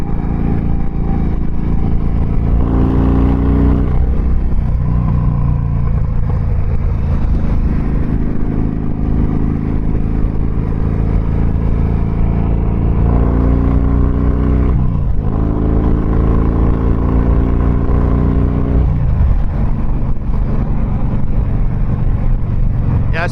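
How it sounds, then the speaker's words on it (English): Harley-Davidson Dyna Fat Bob 103 motorcycle fitted with off-road Africa Twin parts, its engine droning loud and steady through a ride with rising revs as it accelerates, the rumble continuous and close with no talk. "This bike feels like it's gonna go fast."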